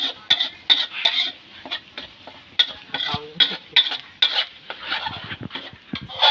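Ingredients stir-fried in a pan until dry before being mixed with curry paste for a Thai dish, with repeated scraping and clattering of a utensil against the pan over a soft sizzle, close and steady with no talking.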